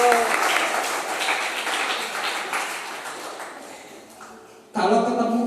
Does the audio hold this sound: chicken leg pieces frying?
no